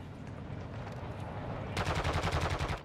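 Rapid bursts of automatic gunfire in the video game Call of Duty: Warzone (DMZ mode) crackle in a quick rhythm over a continuous background rumble, fairly loud and close.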